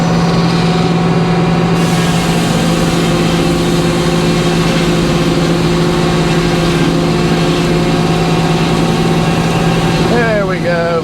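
A sawmill cutting an ugly spruce log for a sawdust bin, a loud, steady engine drone with a constant mechanical hum throughout and no clear pauses.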